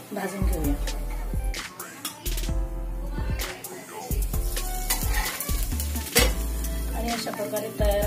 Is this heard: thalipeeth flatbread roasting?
yes